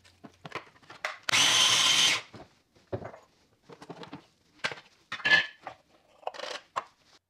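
Food processor grinding dried red peppers into flakes, a single loud, dense whirring burst lasting under a second, set among quieter kitchen clatter and handling noises.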